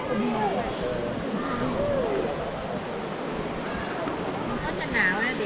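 Water pouring and rushing at a hot spring and waterfall pool in Chae Son National Park, Lampang, a continuous broad wash of flow with people talking over it and a voice briefly near the end.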